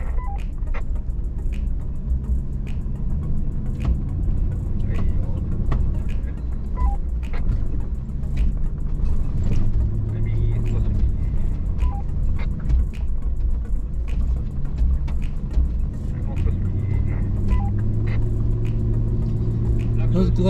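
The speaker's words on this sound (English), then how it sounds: "Jeep's doing a pretty good job on that." A Jeep Gladiator crawls up a rutted off-road trail, its engine a steady low rumble throughout with intermittent rattles and clunks, while someone talks over it.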